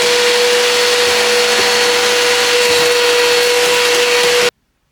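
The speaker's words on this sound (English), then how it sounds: "vacuum that out." A vacuum cleaner runs steadily while cleaning a Chevy C10 pickup bench seat, a loud, constant motor whine with a sustained tone that cuts off abruptly near the end.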